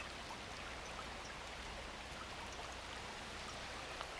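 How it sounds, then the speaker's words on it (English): Water flows steadily along a nature trail in a continuous, even wash of rushing sound, close and unbroken throughout, with no voices. "I'm enjoying the sound, the peaceful sound of the water."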